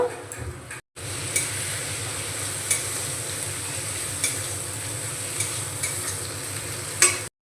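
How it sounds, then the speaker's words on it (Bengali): Kashmiri chili powder and coriander powder sautéing in a pan for egg biryani, with a continuous sizzle and repeated stirring scrapes, after a brief silent gap near the start. "কাশ্মীরি লঙ্কার গুঁড়ো আর ধনে গুঁড়ো দিয়ে একটু কষিয়ে নিয়েছি"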